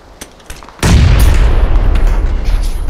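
A grenade blows up in PUBG: after a few small clicks and pops, a loud, sudden boom hits and rolls into a long, rumbling decay.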